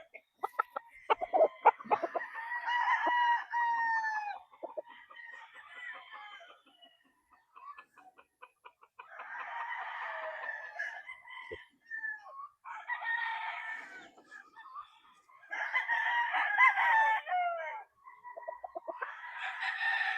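A pure white brood stag, a gamefowl rooster with red eyes, crows repeatedly and clucks in bursts close by, with short pauses between the calls.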